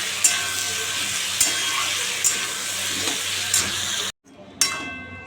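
Tomato sizzles in hot oil with green chilli and black cumin while cooking parshe fish, a steady close frying hiss marked by regular spatula taps against the pan, then a brief silence and the sizzle returns.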